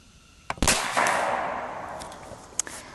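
A Seneca Dragon Claw .50 caliber PCP air rifle fires a single sharp, loud crack, with a decaying tail after it and a couple of fainter clicks later.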